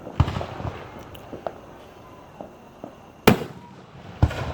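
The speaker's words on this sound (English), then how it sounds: "enjoying the firework display of 2019" Fireworks bursting at a Fourth of July display in Union City, Tennessee: several sharp booms scattered at irregular intervals, with two loud nearby cracks standing out over a low outdoor background.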